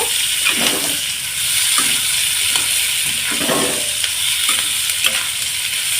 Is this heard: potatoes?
yes